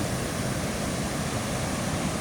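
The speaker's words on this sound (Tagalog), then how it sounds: "Grabe ng alon guys" Heavy sea surf rolls in during Typhoon Kristine as a steady, broad roar of waves that fills the air, with no breaks and no voices.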